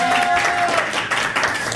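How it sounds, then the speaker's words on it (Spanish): Brief burst of applause and clapping from a studio crew at the start of a technology podcast's 100th episode, short and loud with some voices mixed in. "Oigan, un aplauso."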